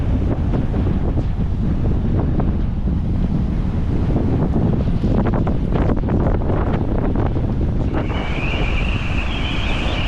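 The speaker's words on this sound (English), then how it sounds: "Windy day problems." Strong gusts roar continuously at the shore, buffeting the microphone with heavy low rumble over washing surf, and a steady whistling tone enters near the end.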